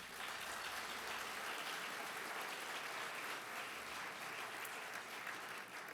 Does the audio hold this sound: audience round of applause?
yes